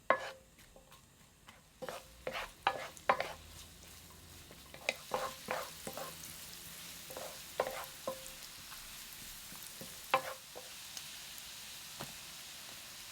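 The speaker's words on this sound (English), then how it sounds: "Melt the butter on medium heat in the pan and stir the onion." Onion is stirred in butter melting over medium heat in a pan for a spinach and salmon cream stew, giving soft scraping strokes of a utensil against the pan over a faint, steady sizzle, fairly close and without talk.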